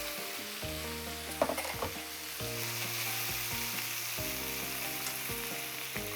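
Cabbage and meat fry in a pan for yaki udon, with a loud, steady sizzle close by and a few sharp clatters of stirring.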